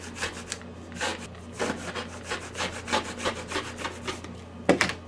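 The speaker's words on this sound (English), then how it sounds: "I'm using my 60 millimeter blade on my rotary cutter." A rotary cutter with a 60 mm blade slices through thick layers of fabric, giving a close, steady series of short scraping, crunching strokes.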